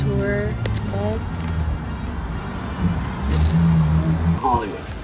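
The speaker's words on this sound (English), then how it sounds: "There's the tour bus." Tour bus on Sunset Boulevard in Hollywood, its engine rumbling nearby and swelling louder as it moves past, under street noise and people talking.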